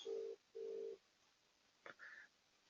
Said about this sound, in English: we will dial again.